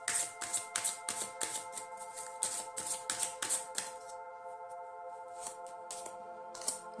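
Tarot cards shuffled by hand in a rapid run of crisp riffling slaps, close and fairly loud, settling into a few sparser flicks and taps as cards are drawn and set down, with steady background tones underneath.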